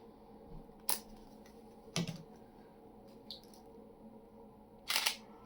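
Sony camera shutter firing with a synchronized Godox flash: three sharp, separate clicks spaced about a second apart, with a fainter tick between them, close by in a quiet room.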